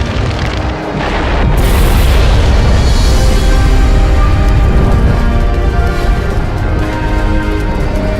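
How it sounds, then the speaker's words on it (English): Massive fire-style jutsu blast in Naruto Shippuden: Ultimate Ninja Storm 3, a loud roaring explosion that erupts after a brief dip and keeps rumbling densely for several seconds, heard alone. "Fire style! Great fire annihilation!"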